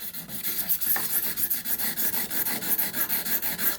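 A whittling knife blade is rubbed back and forth on 1200 grit sandpaper, making a close, steady rhythmic rasping that repeats about every third of a second, with no talking.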